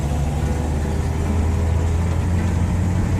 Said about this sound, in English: I don't think the throwout bearing's adjusted out fully.